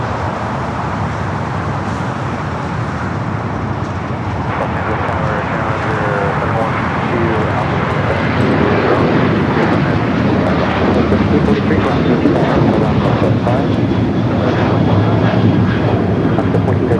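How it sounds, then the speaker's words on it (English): An Aer Lingus airliner taxiing to park at the Tom Bradley terminal at LAX, a steady broad engine roar that swells gradually, loud and continuous, with faint background traffic. "there goes Aer Lingus, going to park it at Tom Bradley."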